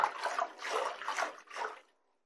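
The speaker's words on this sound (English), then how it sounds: "Put a plug of soap in the water and spread it around like we did." Water sloshing in a basin as brushes are cleaned with a plug of soap, a few soft splashy swishes in quick succession that then stop, fairly quiet and close with no talking.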